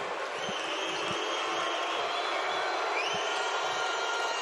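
Arena crowd at a Dominican Republic versus Venezuela basketball qualifier cheers steadily in a broad roar, with a few ball bounces thumping on the court beneath it.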